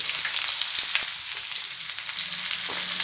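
Elephant foot yam frying with softened onions in a pan, a continuous close crackling sizzle with light stirring scrapes and small pops scattered through, no voices.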